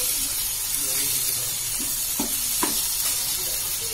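Squid roast sizzling steadily in a pan while being stirred, with a few brief scraping clinks of the spoon over the continuous frying hiss, close and fairly loud.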